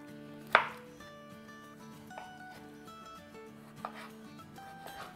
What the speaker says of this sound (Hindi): तो चले अब इसको हम काटना शुरू करते हैं।